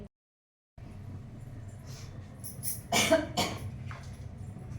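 A person in a home kitchen coughs a couple of times close by, two harsh bursts over low background hum after a brief silence.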